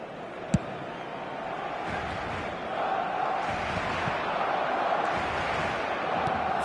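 Stadium crowd in a football video game, a continuous broad roar of cheering that swells slightly midway and holds, with a brief thump near the start.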